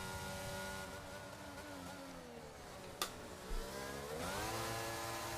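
F1 race car engine revving hard in an F1 video game on the Miami circuit during a qualifying hot lap, high rising and falling engine pitch through gear changes, heard on board, with a brief thump midway and no talk.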